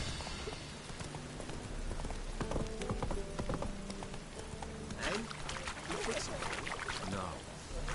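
Roach the horse's hooves clip-clop at a walking pace in The Witcher 3, soft and repeated under a voice and game ambience.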